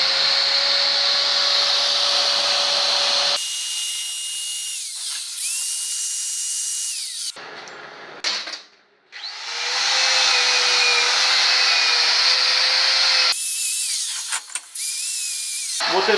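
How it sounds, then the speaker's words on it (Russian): A steady high whine comes from an electric drill spinning a conical burr while cleaning the valve seat corners of a Mitsubishi Pajero 4D56 aluminium cylinder head, loud and close, cutting in and out in several long runs with brief pauses. "Заряжаю его в дрель и чищу вот эти вот места, углы"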